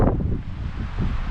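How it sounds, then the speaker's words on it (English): Loud wind rushing across the microphone on the paved West Rim Trail in Zion National Park, a continuous low rumbling roar with gusty swells, no voices. "Yeah, the wind is loud."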